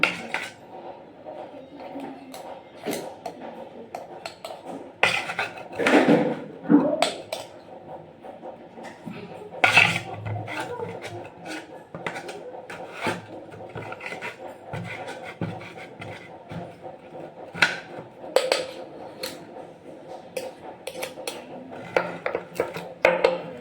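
Tamarind seed pickle being poured and spooned into jars, with repeated clinks and scrapes of utensils against glass and pots, close by and intermittent over a low household background.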